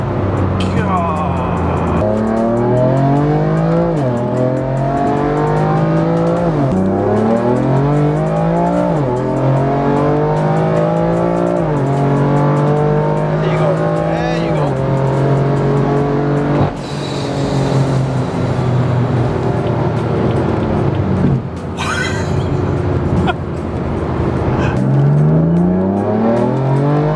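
A 745-horsepower BMW M4 revs hard through repeated upshifts, each climb in pitch ending in a gear change, loud and close, with a short lift-off and more hard pulls later.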